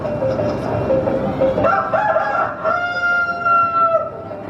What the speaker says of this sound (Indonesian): Akan membuat ayam-ayam ini berkokok